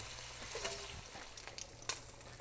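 Bacon frying in a pan gives a steady close sizzle with small pops and crackles scattered through it and no talking.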